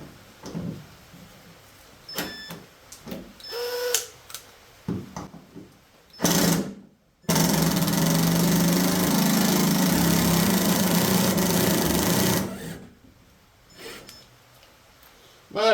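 Small cordless impact driver with a number 3 bit backing screws out of a Sea-Doo Speedster, a loud, steady buzzing hammer run of about five seconds, preceded by shorter clicks and handling noise.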